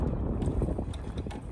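Wind gusting across a lake while crappie fishing from a boat, a steady rough buffeting rush against the microphone with no talk.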